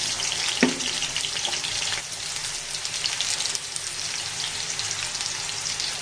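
Potatoes dropped into hot oil for a noodle dish, giving a steady, close sizzle of frying throughout with a brief sharper crackle near the start and no talking.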